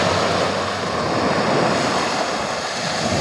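Waves wash steadily onto a beach, a loud continuous rush of surf mixed with wind noise on the microphone, with no distinct breaks and no voices.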